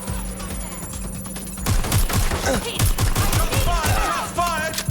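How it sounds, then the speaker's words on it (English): Rapid gunfire in the video game Watch Dogs: Legion, a loud burst of automatic shots crackling over busy game sounds, with faint voices mixed in. "Shots fired!"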